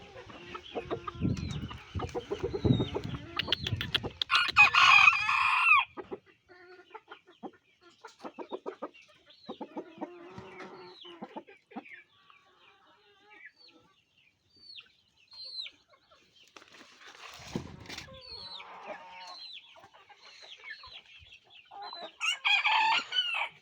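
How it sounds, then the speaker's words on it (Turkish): Young roosters on a farm crow and cluck in bursts, several birds close by with shrill crows rising over steady clucking and rustling, with quieter gaps between calls. "İspençlerimiz de burada."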